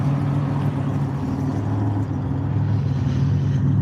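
A car engine idles steadily at close range, a continuous low rumble with a faint mechanical hum, holding even throughout with no revving.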